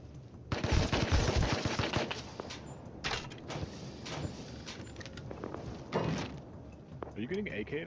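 AK rifle gunfire in the video game Kenshi: bursts of rapid shots crackle loudly at the start, then scattered shots follow while players talk over it.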